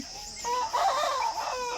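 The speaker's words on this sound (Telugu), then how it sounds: "ఇప్పుడు నాలుగు పుంజు పిల్లలు కూడా చూపిస్తాను" Young roosters cluck and call briefly at close range, a short burst of throaty, slightly strained notes.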